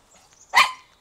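A Pomeranian gives a single sharp, close bark, preceded by faint soft whimpering sounds in an otherwise quiet room.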